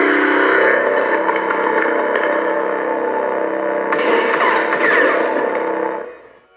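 Protostar lightsaber sound font playing from a Proffie v3.9 board in a custom MHS hilt with crystal chamber, a loud steady humming drone with a brighter swell partway through, close to the mic, fading out at the end.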